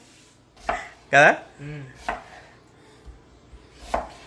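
A knife chops onions for a chicken dish in a few sharp, irregular strikes, close and clear, with a brief spoken word between cuts.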